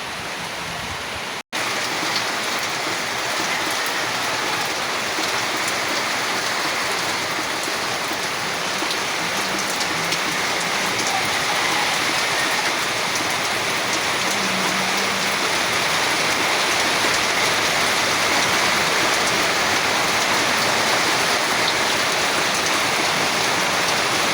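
Heavy rain pours steadily, a dense, loud, unbroken roar of water that continues evenly throughout without pauses or voices.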